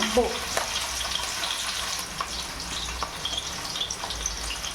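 Onions frying in a pan while cooking Telugu-style boti (tripe) curry, giving a steady, moderately loud sizzle that runs throughout with faint clatter.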